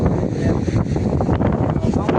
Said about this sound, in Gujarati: અત્યારે તો પવન બહુ છે